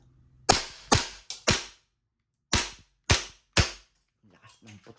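An E&C G34 gas airsoft pistol firing BBs, seven loud, sharp cracking shots in quick uneven succession, close by, followed by a faint voice at the end.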